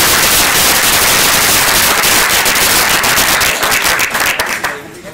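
Dense, loud applause from an audience at a hydrology education anniversary celebration, steady and full before tapering off in the last second.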